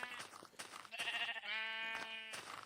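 Sheep bleating in the Minecraft video game, several short wavering bleats close together and fairly loud, with one longer drawn-out bleat in the middle.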